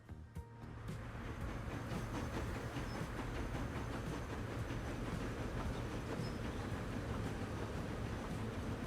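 Steady rumble of a train running in Transport Fever 2, with continuous rolling wheel noise and faint rhythmic clatter holding at an even level throughout, no voices.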